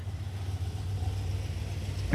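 A 1968 Dodge Charger engine idles with its newly fitted exhaust, a steady low rumble that stays fairly even and close before a brief louder swell at the very end.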